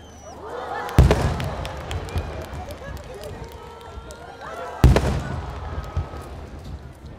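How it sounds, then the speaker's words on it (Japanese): Two deep, booming blasts of fireworks launched from a beach at the Wakasa Takahama fireworks festival in Japan ring out a few seconds apart and echo away, while a crowd murmurs and chatters throughout. "浜辺から打ち上げられたおよそ4300発の花火が夏の夜空を彩りました"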